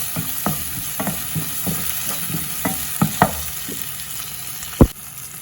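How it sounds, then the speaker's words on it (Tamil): Onion, garlic and ginger sizzle in hot oil in a pan while a spoon scrapes and stirs in a steady series of sharp knocks, ending with one louder clack; no one speaks. "இப்போ வெங்காயத்தையும் பூண்டையும் இந்த இஞ்சியையும் போடுவோம். இது ஒரு காவாசி அளவு வெந்தால் காணும். ஒரு 30 செகண்ட் கிளறி போட்டு"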